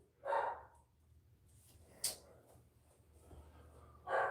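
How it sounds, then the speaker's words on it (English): A dog barks a few times, single sharp barks spaced apart, fairly faint against a quiet background with a low hum. "Let's see what the dog's barking"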